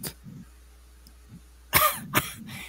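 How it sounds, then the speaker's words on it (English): A man who has gone without a cigarette coughs in two harsh bursts, one after another and close by, following a quiet stretch with faint low rumbling. "And you're coughing your lungs out."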